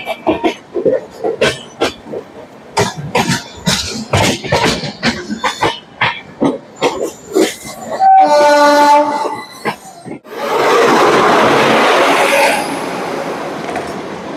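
Rajdhani Express 22221 leaving Mumbai CSMT, heard from inside a 3AC coach: a run of sharp knocks and clunks gives way to a brief horn-like tone and then a steady rising rush of the moving train, close and loud.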